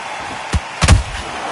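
Boxing punches landing in the video game Undisputed, a short sharp thud followed by a heavier double impact, loud and close against a steady background wash.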